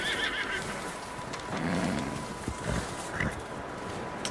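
A horse in the video game Red Dead Redemption 2 whinnies and snorts in a few short bursts over a low ambient game background, with hoof-like thuds midway, no clear speech.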